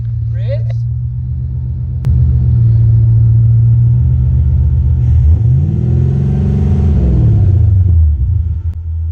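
A car engine idles with a low, steady rumble up close, then revs up and settles back down in a smooth swell, while people talk nearby during work on its electronics.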